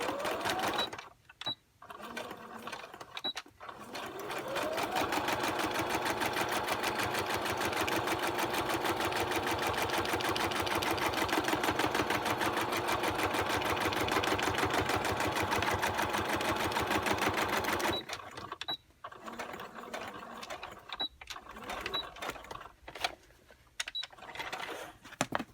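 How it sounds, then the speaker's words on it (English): A small Brother sewing machine stitches decoratively through recycled envelope paper, a steady fast mechanical whir with a rapid needle rhythm, loud and close, running alone for about thirteen seconds between short bursts of stop-start stitching. "It's a little brother sewing machine I bought at Joann's on sale a few years ago"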